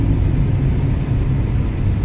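A 1995 Honda Civic SI EG hatchback driving on the road, heard from inside as a steady, loud low rumble of engine and road noise without a break.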